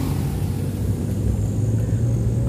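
A heavily loaded truck labours up a steep, extreme forest road, its engine a loud, steady low rumble throughout.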